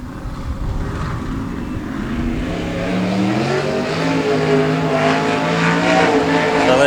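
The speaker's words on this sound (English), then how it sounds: "So let's see if the 88 of Ben Pratt doing a solo run." A limited sprint car engine roars loudly and continuously through a solo qualifying lap, its pitch climbing and swelling as the car drives hard around the track.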